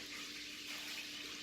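Water pumped into a filter in a home water system, a steady rushing flow with a faint constant hum underneath, moderately quiet and without voices.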